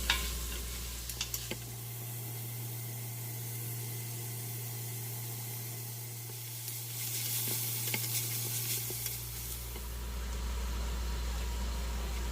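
Onion and garlic frying in a pan for homemade beef batchoy, a steady close sizzle holding throughout with a few brief crackles, no talking.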